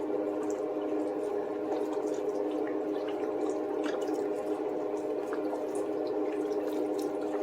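Chicken broth poured from a carton into a bowl of boxed stuffing mix, a steady continuous trickling and splashing of liquid heard close up and alone for several seconds.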